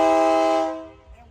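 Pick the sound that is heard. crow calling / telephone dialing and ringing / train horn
train horn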